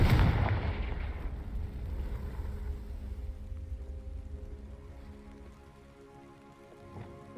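Confringo blasting spell detonating against dry vines in a Hogwarts video game, one loud burst at the start, then a long crackling, rumbling decay that fades over several seconds.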